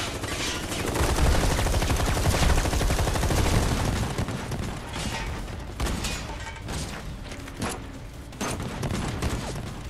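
Sustained bursts of enemy gunfire in the Final Fantasy 7 Remake Roche boss battle, dense rattling volleys loud throughout with brief sharper cracks, thinning slightly toward the end.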